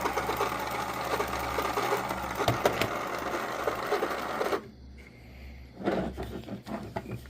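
3D printed rewinder turning a 3/4 inch U-matic tape, a steady close mechanical whir with a low motor hum and light clicks, stopping briefly before starting up again.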